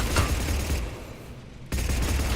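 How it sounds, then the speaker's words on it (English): Gunfire in the shooter Mass Effect 3, dense close shots at the start, a brief lull, then another loud burst of shooting near the end. "when the 8th shot fires, it sounds distinct"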